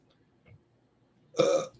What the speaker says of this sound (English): Sad for that burp.